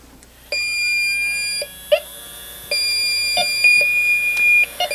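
Yellow Jacket Accuprobe leak detectors powering up and sounding steady electronic beep tones during warm-up, with several overlapping sustained tones and short chirps, fairly close and clear.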